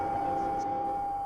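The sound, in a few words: Final Fantasy VII eerie sound effect of the planet dying, video game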